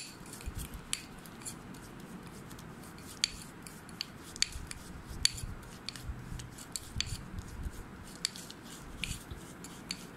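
A facial mud mask paste is stirred and scraped in a small bowl, giving faint, close, irregular clicks and scrapes with soft squishy rubbing between them.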